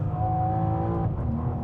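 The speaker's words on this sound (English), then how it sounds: "a full Akrapovič titanium exhaust, front to back, and it sounds absolutely glorious" A Bovensiepen Zagato BMW M4 with a full Akrapovič titanium exhaust and its particulate filter removed gives a steady, throaty engine drone, close and even, with a slight dip in pitch near the end.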